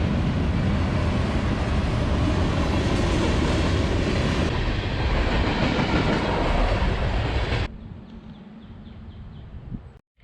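A freight train rumbles past close by with steady rolling clatter, loud and continuous, then cuts off abruptly to quieter ambient noise near the end.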